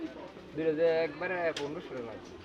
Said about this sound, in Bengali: দুটো মাদি কবুতর দুটাই মাদি